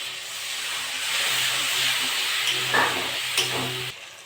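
Water poured onto a frying spice paste for chhana potol curry, giving a steady loud hiss and steam sizzle that swells and then cuts off, close up with no voices.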